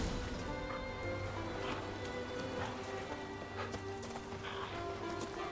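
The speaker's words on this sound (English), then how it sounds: "Oh, I've got my horse here." A horse gallops in the video game The Witcher 3, giving rhythmic hoof clip-clops over a steady ambient bed, fairly quiet and continuous with no voices.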